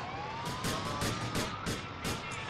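A police car siren in GTA 4 wails continuously with a rising tone, overlaid by rapid repeated bursts of sound, loud and close with no talking.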